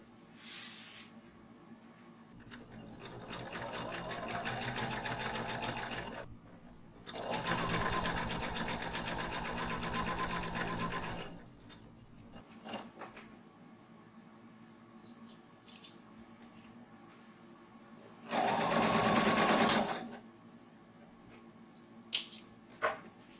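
A sewing machine stitches a shoulder bag in several bursts of rapid, even needle chatter, with quiet gaps and small handling clicks between runs, close and clear.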